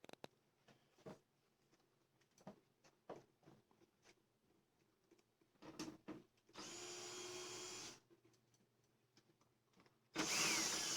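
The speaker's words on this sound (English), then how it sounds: "Gotta find my drill." A cordless power drill whirs in two short bursts while an LED light strip fixture is taken apart, the first lasting over a second, the second starting near the end, separated by faint handling clicks and knocks.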